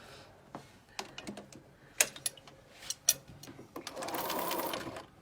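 Sewing machine stitching a zigzag, a quiet run of rapid mechanical ticks and clicks in short bursts, ending in a longer continuous whirring stretch, close by with no talk.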